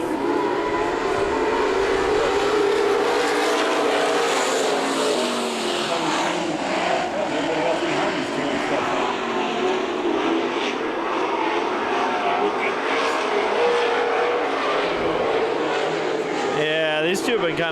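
Super stock race cars roar on the Perris Auto Speedway oval at a green flag restart, a dense, loud, continuous engine drone sustained throughout with a track announcer speaking over it.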